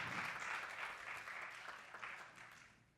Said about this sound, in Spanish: ¿Por qué no le da un aplauso al Espíritu Santo?